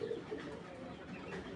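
A male racing pigeon hatched in 2016 gives a brief, low, throaty coo close by, soft and rounded against a quiet background.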